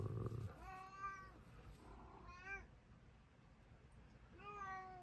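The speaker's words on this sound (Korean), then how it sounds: "우리 냥냥이가 냥냥거리네요" A house cat meows three times in short, rising-and-falling calls, close and fairly quiet, with a soft rustle at the start and a crochet session going on in the background.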